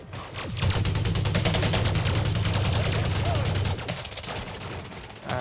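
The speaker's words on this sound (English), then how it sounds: "Shooting" Dense, rapid gunfire in an on-foot infantry conflict zone battle in the video game Elite Dangerous Odyssey, a loud continuous fusillade of shots that stops abruptly, followed by a few scattered bursts.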